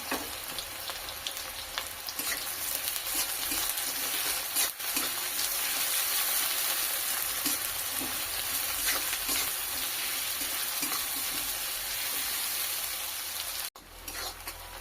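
Six medium chopped onions fry in hot oil, a continuous dense sizzle with occasional stirring scrapes, close and steady, ending in a brief dip near the end, with no voices.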